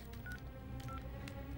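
A telephone number is punched in on a keypad, a quick sequence of several short DTMF tone beeps at irregular intervals, faint and close, over a quiet room background with no speech.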